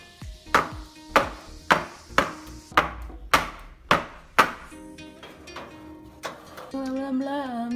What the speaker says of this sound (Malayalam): സോ അതിനുള്ളിൽ എയർ ബബിൾസ് ഇടാൻ വേണ്ടി നമ്മളൊന്ന് കൊട്ടി കൊടുത്താൽ മതി.